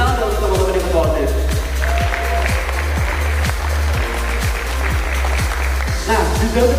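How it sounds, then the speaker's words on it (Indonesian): Applause from a school audience at a campus outreach event, a broad clatter of clapping that continues throughout, heard beneath a speaker talking over amplified music with a steady rhythmic beat. "Tepuk tangan untuk teman-teman di ketua OSIS"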